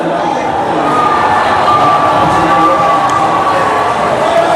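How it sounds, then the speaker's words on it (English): Stadium crowd at a Namibian Premier League football match between Eeshoke Chula Chula and African Stars, a steady loud roar of many voices under floodlights, sustained without a break throughout. "the crowd goes wild"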